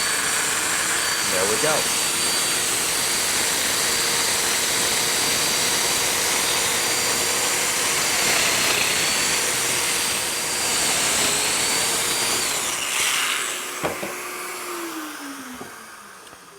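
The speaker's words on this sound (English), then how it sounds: "Now I'm going to start to cut the left-hand side pieces, and I want to switch the domino over to the medium size." A Festool Domino joiner runs steadily, cutting medium-width mortises in panel side pieces for a bath vanity, a continuous loud whine under brief talk before it winds down near the end.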